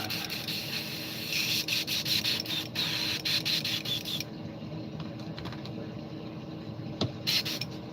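Airbrush blasting paint through to clean it out, a steady hissing spray in short bursts with an extractor fan running underneath, close and fairly loud.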